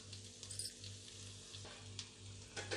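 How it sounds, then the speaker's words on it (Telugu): Chopped onions and green chillies fry in a pan with a steady, soft sizzle and occasional faint stirring scrapes, accompanied by a low, regular electrical hum throughout. "సన్నలుగా తరుక్కున్న 2 పచ్చిమిర్చి, ఉల్లిపాయలు వేసుకొని బాగా ఫ్రై చేసుకోవాలి"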